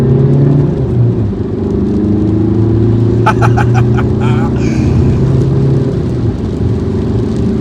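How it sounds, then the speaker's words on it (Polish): A SEAT Ateca 2.0 TDI diesel engine with 270,000 km drones loudly and steadily at high revs at full throttle inside the cabin, with a voice speaking briefly partway through. "redukcja biegu na dwóje, gaz podłogę i piłuje"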